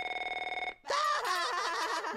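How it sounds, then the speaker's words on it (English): A telephone rings in a South Park TV cartoon, opening with a rapid electronic trill that breaks into a shrill warbling ring, loud and close. "That's actually a ringing phone, though, dudes."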